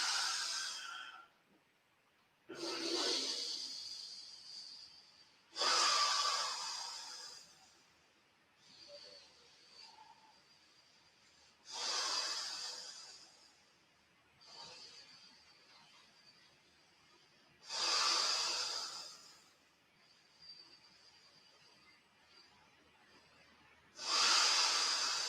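Slow, deep yoga breaths during a sun salutation, with long hissing exhales and softer inhales repeating in a steady rhythm, close and alone.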